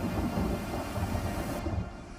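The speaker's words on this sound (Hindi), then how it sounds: "बुर्ज खलीफा के आसमान में कड़कती बिजली का खौफ" Thunder rumbles in a heavy rainstorm over Dubai, a steady, loud, dense roar that fills the whole stretch with no voices.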